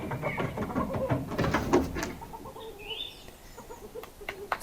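A flock of chickens clucks and squawks in a noisy yard, loud at first then thinning into scattered calls and a few sharp cries.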